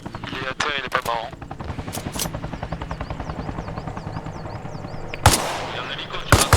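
A helicopter throbs with a fast, even rotor chop throughout a firefight in Arma Reforger, while bursts of gunfire crack sharply over it, loudest near the end, with no talking.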